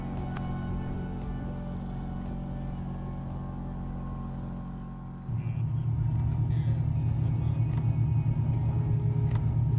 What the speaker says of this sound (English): So he fired up the motors and we sped back towards the marina